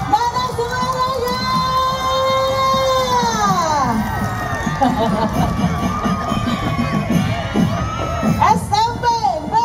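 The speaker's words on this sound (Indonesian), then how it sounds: "Boleh berikan tepuk tangan mana suaranya?" Spectators at an outdoor drum band competition for the Piala Raja HB X 2023 cheer and shout loudly, children's voices and whoops rising over crowd noise, with an announcer talking over the din.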